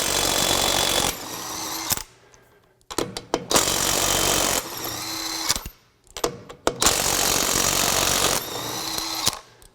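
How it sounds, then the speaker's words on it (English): A Craftsman V20 brushless 1/2-inch drive impact wrench rattles on a lug nut in several loud bursts of rapid hammering, separated by short pauses with clanks and handling noises between them. "So there's definitely more hammering involved in that, or more impacting"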